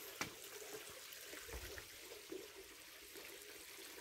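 Thin trickle of cold water falling into a small rock pool at a stream, a soft continuous splashing with a few faint knocks and drips, quiet and fairly close.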